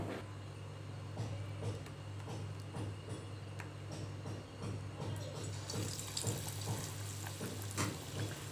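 Banana and potato bajji dropped into hot oil, a steady close sizzle and bubbling frying noise with small crackles throughout, quiet and without talk.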